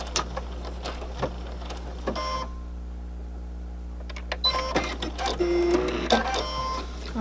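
A sewing machine works on a fabric face mask, giving short bursts of mechanical stitching with clicks and a steady motor hum, a quieter stretch in the middle, close and without talk.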